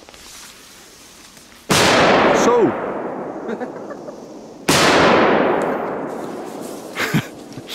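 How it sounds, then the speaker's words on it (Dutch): Two powerful firecracker blasts from a Polish market go off outdoors about three seconds apart, each with a long echoing decay, while people react with short exclamations. "Het zijn wel echt heerlijke knallers"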